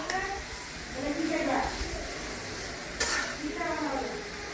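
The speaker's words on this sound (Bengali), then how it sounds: "বাঁধাকপি ভাজি করলাম ডিম দিয়ে, কিছু ধনে পাতা দিয়ে দিলাম" Cabbage fries in a pan with egg and coriander leaves while being stirred, a steady sizzle with scraping strokes and occasional clinks, and a voice speaking over it.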